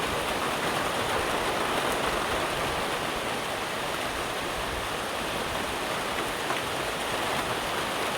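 Heavy rain falls steadily during a thunderstorm, a dense, even hiss of downpour that stays constant throughout, close and loud, with no voices.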